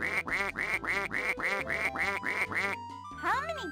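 Cartoon ducks quacking in a children's animated adventure, a run of evenly spaced, nasal quacks in quick succession, followed by a brief pause and a rising, warbling tone.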